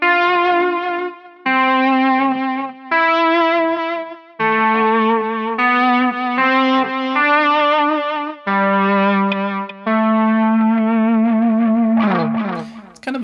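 Distorted electric guitar plays sustained notes that swell up in volume one after another, with a smooth cello-like tone, ending in a brief noisy strum.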